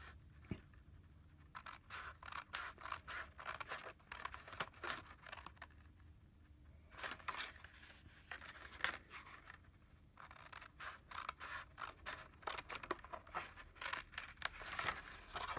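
Scissors snip and slide through paper along score lines while a paper lantern is made, a faint, close series of short crisp cuts and rustles with brief pauses between runs.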